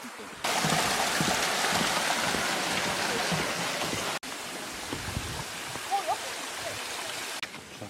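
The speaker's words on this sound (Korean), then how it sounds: "물소리 너무 좋다." Water rushes along a mountain stream beside a hiking trail, a loud broadband wash that briefly cuts out midway before continuing, with faint voices and trail sounds mixed in.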